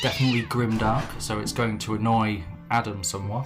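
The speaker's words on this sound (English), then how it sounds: "and that was my cat." A pet cat meows during a tabletop role-playing game recording, its cries mixed under a man's close, continuous talking.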